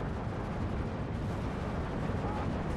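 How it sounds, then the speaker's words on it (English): Verflammen rocket launcher firing its full load of missiles at infantry squads in Steel Division 2, a dense, continuous roar of overlapping launches and blasts that holds steady and loud for the whole stretch. "now we see a Verflammen put in all of its missiles into this infantry"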